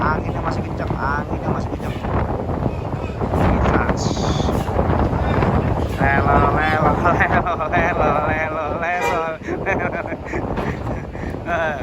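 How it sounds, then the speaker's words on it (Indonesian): Strong wind buffets the microphone at Merak harbour in bad weather, a constant rushing roar while a person talks over it. "Anginnya sangat kenceng."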